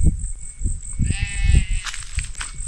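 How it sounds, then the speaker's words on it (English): A single close sheep bleat, wavering and nasal, rising over a muffled rustling background in rural Senegal. "There's the sheep."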